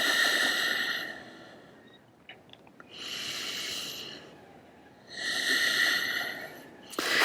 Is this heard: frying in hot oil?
no